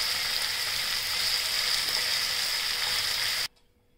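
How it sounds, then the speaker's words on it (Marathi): Onion and moong dal sautéing in a pan, a loud steady sizzle that runs unbroken for several seconds and then cuts off abruptly into near silence. "आणि कांदा। सगळं परतून घ्यायचं 5-2 मिनिटं"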